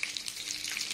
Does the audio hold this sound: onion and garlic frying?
yes